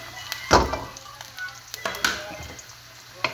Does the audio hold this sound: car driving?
no